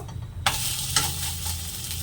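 Vegetarian breakfast mixture with vegetables flipped in a frying pan, a sharp clatter of the turn followed by steady close sizzling, with a second light knock partway through.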